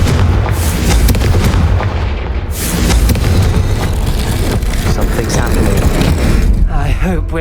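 Confringo spell blasts in Hogwarts Legacy: loud booming explosions with crackling impact bursts and dense rumbling game effects, sustained and heavy, with a voice calling out over it.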